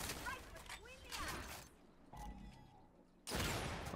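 Shotgun blasts from close-range combat in Gears 5 ranked Control mode, sharp broadband bursts mixed with game effects and a loud final shot, while a player talks over the action.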